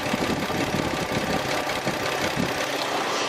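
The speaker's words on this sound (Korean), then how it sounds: "엔진 소음 먼저 들려드리면은" Engine of an export-model large sedan idling with the hood open, a steady, smooth mid-low rumble heard up close, continuous and even with no talking.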